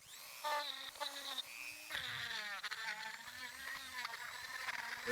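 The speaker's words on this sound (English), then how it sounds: "bought some of these grinding bits for my rotary tool" A handheld rotary tool fitted with a grinding bit grinds decomposed rotten wood out of a Japanese maple bonsai trunk. The motor whines up close and its pitch rises and falls as the bit bites into the wood.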